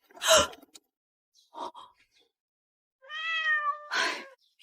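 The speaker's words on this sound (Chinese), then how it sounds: "原来是只野猫，差点把我魂都吓飞了。" A stray calico cat meows a few times at close range, short separate cries with quiet gaps between them, and one call rises into a drawn-out tonal meow near the end.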